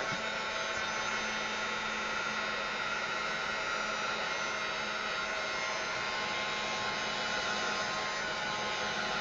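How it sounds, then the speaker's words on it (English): A hair dryer blows steadily and loudly at close range over a wet mixed-media paint layer, a continuous airy whoosh with a faint hum and no pauses. "I'm going to dry it just a little bit more because I can feel it's a little bit wet right here."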